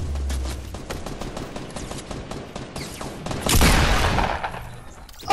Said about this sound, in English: there's like 500 people shooting at us at the same time